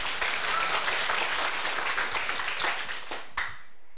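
Audience applause at a political lecture session in Taiwan, a dense wash of clapping that holds steady for about three seconds, then thins and fades out near the end.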